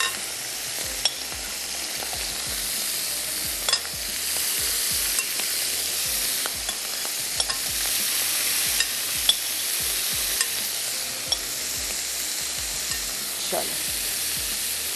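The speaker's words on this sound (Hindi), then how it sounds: "और अब मैं इसमें शामिल कर रही हूँ गाजर, मशरूम्स और थोड़े से पिकल्स।" Carrots, mushrooms and pickles frying in a hot pan, a loud, continuous close sizzle with scattered light clicks and taps of a utensil stirring throughout.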